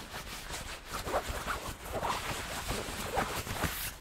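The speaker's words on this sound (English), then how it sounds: "This is a hand running over fabric that covers the side walls." A soft, continuous scraping rustle as a hand brushes across fabric covering a theatre's side walls, steady and close, with no voices.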